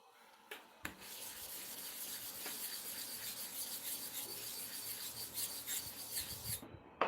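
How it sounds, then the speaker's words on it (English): KI clipper blade rubbed back and forth across a smooth sharpening stone, a soft rasping scrape that carries steadily for several seconds after a couple of faint taps, close and quiet with no talk. "So let us use smooth surface to see where the work starts on the KI clipper blades"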